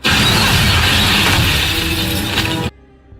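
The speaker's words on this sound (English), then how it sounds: "Michael crashes through the glass ceiling." Loud glass ceiling shattering as a man crashes through it, a sustained crash of breaking panes and falling shards lasting over two seconds before cutting off abruptly.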